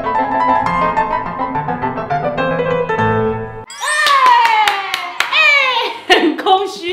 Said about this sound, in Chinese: 只有自己帮自己拍手